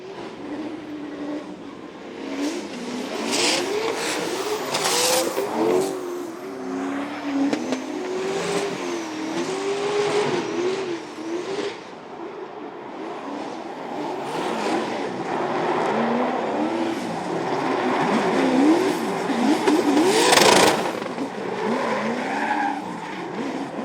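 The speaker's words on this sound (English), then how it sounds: "listen to the sounds of this turbocharged LS Subaru BRZ" A turbocharged LS-engined Subaru BRZ drift car on Falcon tires runs at a Formula Drift event, its engine revving and wavering under throttle while tires squeal and skid continuously, loud and sustained with crowd-level ambience behind.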